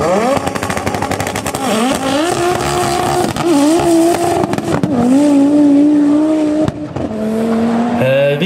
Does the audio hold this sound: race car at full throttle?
yes